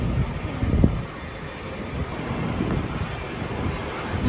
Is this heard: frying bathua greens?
no